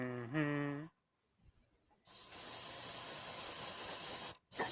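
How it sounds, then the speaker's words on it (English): Spray can hissing steadily for about two seconds while painting a custom 1:12 scale action figure, loud and close, after a brief pause, with a short tonal sound before it. "Finish your spray work."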